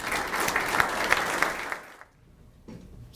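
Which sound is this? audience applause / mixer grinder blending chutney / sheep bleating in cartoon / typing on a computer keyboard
audience applause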